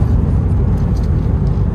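Subaru BRZ on a road test drive, heard from inside as a steady low engine and road rumble with no pauses, loud and continuous throughout.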